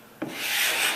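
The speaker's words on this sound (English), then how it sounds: "I'm just going to keep scraping and" A hand scraper rasps across the painted wooden hull of a 1938 Chris Craft boat, stripping old barrier coat: a short sharp scrape followed by a sustained, close grinding rub with no talk.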